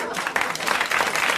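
Loud, dense audience applause from a 1981 French television variety show studio crowd, sustained clapping throughout with a bit of voice mixed in.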